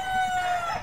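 A Fayoumi chicken gives a short, loud, close crow-like call with clucking tones, lasting under a second and heard alone.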